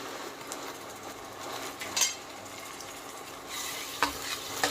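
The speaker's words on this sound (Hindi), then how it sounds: "अब इसे हम अच्छी तरह से लगभग 2 मिनट भून लेंगे" Onion fries in a pan with ginger, green chilli and garlic paste and is stirred now and then, giving a steady close sizzle broken by a few sharp scrapes of the spoon.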